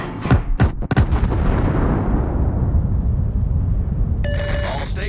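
Heavy battleship main guns firing in the naval video game World of Warships aboard the Satsuma, several deep booming salvos in quick succession up front, then a long rumbling tail with a faint electronic alert tone near the end.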